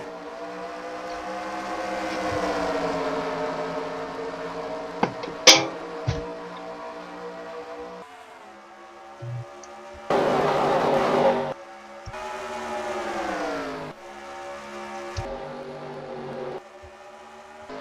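NASCAR Sprint Cup cars racing at Michigan in the 2014 Quicken Loans 400, a loud sustained roar of engines rising and falling as the pack passes, with sharper bursts and shifts in pitch, no talk.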